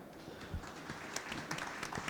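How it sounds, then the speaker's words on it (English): Audience applause at a tech startup forum panel, fairly faint scattered clapping from a modest crowd, uneven and thin rather than a full ovation. "let's give her a round of applause"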